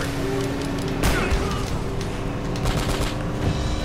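Dense gunfire and booming impacts from the Uncharted: Drake's Fortune jeep chase, a continuous loud barrage of shots with a heavy blast near the one-second mark and engine rumble underneath.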